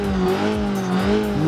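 A turbocharged 1.2-litre, 110-horsepower Honda City Turbo in BeamNG, with custom engine sounds, revs with a buzzy, harmonic engine note that rises and falls in pitch across short throttle blips.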